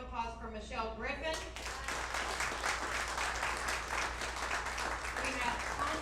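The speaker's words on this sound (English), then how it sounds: "Everybody, big round of applause for Michelle Griffin." An audience breaks into loud, sustained applause at a WPBA pool invitational final, dense clapping filling the room after a voice speaks at the start.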